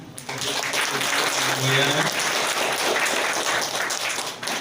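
A church wedding congregation breaks into dense, steady applause that swells and holds, with a brief voice at the start.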